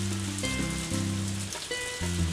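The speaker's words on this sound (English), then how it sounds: "It's still raining" Steady rain in the farming video game Harvest Moon: A Wonderful Life, a continuous hissing patter running under soft background music notes throughout, with no voices.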